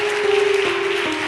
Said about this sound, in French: Donne une acclamation.